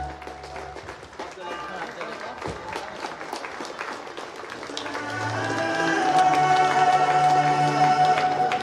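Students applaud at a national seminar held at St. Augustine's College, Manoharpur: steady clapping from a seated crowd builds and swells louder toward the end, with music or a tone sounding alongside.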